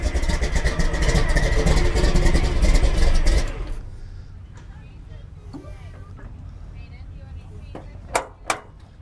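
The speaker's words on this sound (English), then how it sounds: "there's Delbert and his mini monster truck" A 1976 Ford F100 mini monster truck's engine runs loudly and close for a few seconds, then cuts down to a quieter rumble with people talking nearby and a couple of sharp knocks near the end.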